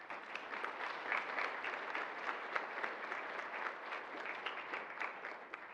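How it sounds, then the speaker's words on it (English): An audience at a panel session on political engagement and voting gives a round of applause, a steady wash of many hands clapping that stays even and moderately distant for several seconds. "please give them a round of applause"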